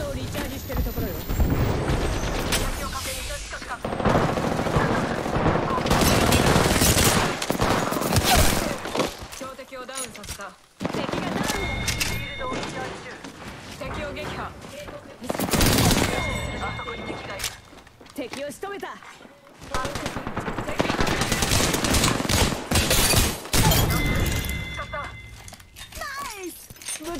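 Apex Legends video game gunfire: dense bursts of rapid shots that come in long waves with short lulls between them, loud and close. Game voices and a speaking player are mixed in.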